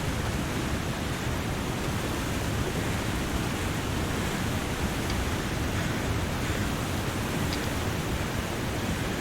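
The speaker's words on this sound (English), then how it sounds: "This waterfall is so unbelievably loud." A waterfall in the video game The Long Dark roars as a loud, dense, unbroken wash of rushing water that fills the whole clip at a constant level.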